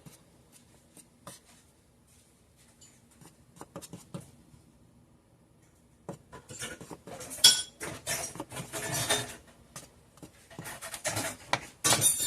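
A utensil scrapes and knocks against a bowl while sour cream donut batter is mixed, soft and sparse at first, then louder, busier clatter and rubbing in the second half, close by with no talk.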